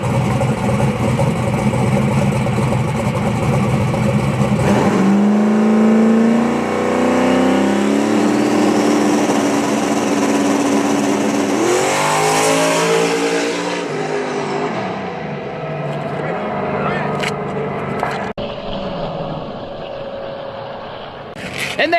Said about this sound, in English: there's our first car down the racetrack today